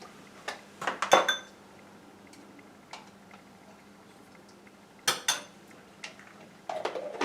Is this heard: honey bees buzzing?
no